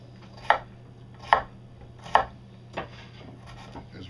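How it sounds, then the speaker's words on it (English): Vegetables being chopped with a knife on a cutting board during pressure canning prep, five sharp, evenly spaced knife strikes close up against a low steady background hum. "As we get these vegetables cut"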